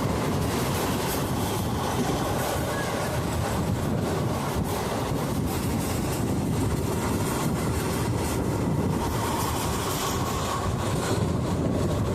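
A continuous rushing roar of a moving daytime passenger train on rails, dense and steady throughout, with wind buffeting the microphone.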